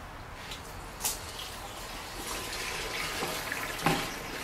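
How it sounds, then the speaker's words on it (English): Water pours and splashes into a container nearby, with a running, gurgling flow and a couple of brief clunks. "Okay, so I got some water. We're going to fill this hopper too."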